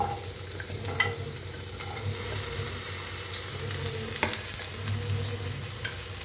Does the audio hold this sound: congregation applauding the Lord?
no